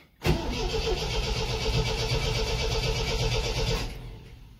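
An MGB GT that has sat unused for months cranks and catches in a single loud, sustained start attempt lasting about three and a half seconds, with a sharp onset and an abrupt stop.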